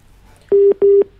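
Two identical steady electronic beeps of a telephone disconnect tone after a call drops, each about a fifth of a second with a brief gap, loud and clean over a quiet line.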